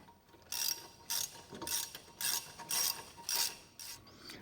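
Ratchet wrench clicking in repeated bursts while caliper bolts on a 2013–2019 Ford Escape brake job are run in, about seven short rhythmic ratcheting spells separated by brief pauses, close and clear with no talking.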